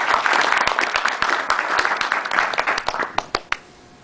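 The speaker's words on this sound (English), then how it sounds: "So round of applause." Audience at a corporate event applauding a keynote speaker: a full burst of clapping that thins out toward the end into a few scattered, separate claps.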